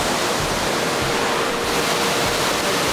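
Roadside along the Tahoe river in Spain, a giant waterfall roars as a steady, broadband rush of falling water, loud and constant with no pauses.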